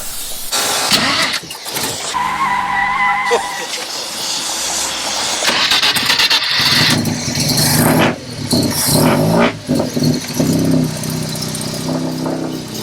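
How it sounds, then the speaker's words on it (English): A Mazda 1200 rotary wagon's rotary engine is cranked and catches, then runs roughly with revs rising and falling, loud and close, with voices talking over it at times. "Alright, man, you want to start it up for the people? I'm sure they want to hear it."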